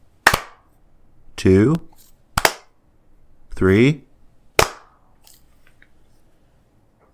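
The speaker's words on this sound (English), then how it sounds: "Let's clap." Three sharp hand claps spaced about two seconds apart, with a voice counting aloud between them.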